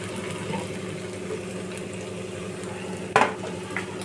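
A paste of garlic, onion, tomato and green chili fried over low heat in a pan while being stirred, a steady soft sizzle with a sharp clatter of the spoon against the pan near the end.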